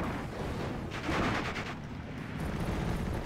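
Gunfire in the WWII video game Steel Division: Normandy 44 booms from a distance, a brief cluster of rumbling shots over a constant low battle ambience, moderately faint.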